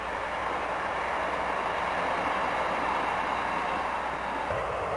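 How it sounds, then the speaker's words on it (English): A 1600 class electric locomotive hauls a Cologne–Amsterdam passenger train past in Holland, a steady loud rolling roar of wheels and carriages with no pause, close and constant from start to finish. "This 1600 class machine is in charge of one of the hourly trains between Cologne and Amsterdam."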